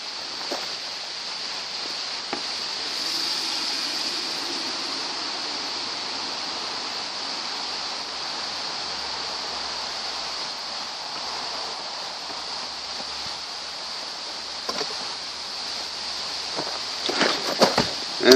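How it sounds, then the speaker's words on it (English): A hot copper-and-steel blade is quenched in water, giving a steady, close hiss that holds for about eighteen seconds before a few sharp knocks near the end. "Now I'm going to quench this real quick in some water."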